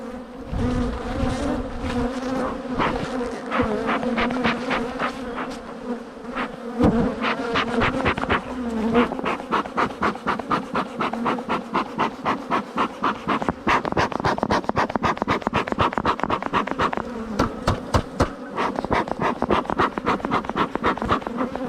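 Honey bees buzz thickly and continuously close by, a dense droning hum, with scattered scratching and tapping clicks over it.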